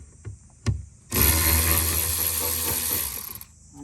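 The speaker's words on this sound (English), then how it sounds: "I'm just going to use a power tool here" A power tool backs out T15 screws on a C8 Corvette's air box cover, a couple of sharp clicks and then a loud continuous whirring run of about two and a half seconds, stopping abruptly, close and alone.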